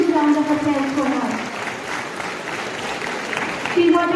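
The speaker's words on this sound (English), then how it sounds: "Please give a very huge round of applause for her" Audience at a Raman Society function at Govt. Degree College, Dharamshala, applauding a student shooting champion: a broad wash of clapping under a speaking voice, which fades out midway and returns at the end.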